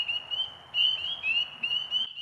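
A frog croaks at the base of a tree at night, a steady stream of shrill pulsing calls repeating in quick rhythmic bursts, close and loud against a quiet background.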